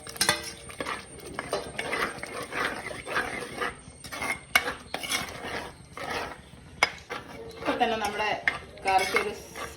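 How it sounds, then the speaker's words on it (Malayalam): Tamarind water going into a pot of fish curry, with clattering utensils, scraping stirs and metal clinks against the pot, close and busy throughout. "അതിലേക്ക് ഒരൽപ്പം പുളിവെള്ളം ചേർത്ത് കൊടുക്കാം"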